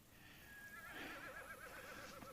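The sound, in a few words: horse neighing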